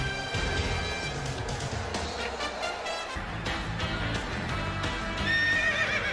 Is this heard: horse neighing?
yes